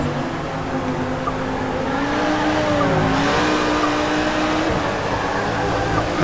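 A BMW race car driven hard during a track race, its engine a steady loud roar with shifting pitch that holds throughout at close to moderate distance.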